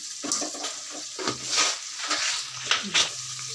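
Onions sautéing in a pan with rock salt, a gurgling, watery sizzle with uneven stirring swishes rising and falling close up.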